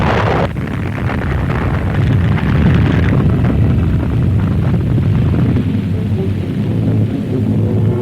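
Massive blast of over 5,000 kilos of TNT detonated beneath the Alcázar fortress during the 1936 siege, heard as a sustained, loud, roaring rumble with heavy low-end debris noise rolling on for several seconds.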